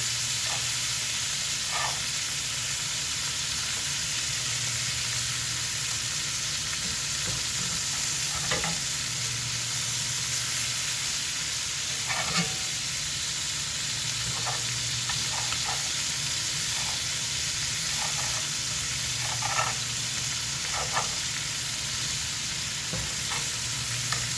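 Sausage for zuppa toscana fries in a pot under a steady, loud sizzle. A spoon stirs it with intermittent scrapes and knocks, and no one speaks.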